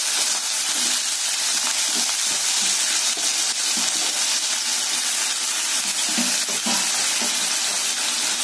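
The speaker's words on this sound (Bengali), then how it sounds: "এদিকে তেল গরম হয়ে গেছে" Potatoes frying in hot oil in a home kitchen, a steady loud hiss that holds without break from start to finish.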